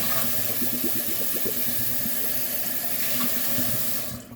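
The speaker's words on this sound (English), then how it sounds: "do a little pre-rinse before you even start cleaning it" Tap water runs steadily into an oily pan in a sink, a close, continuous splashing rush that cuts off at the end.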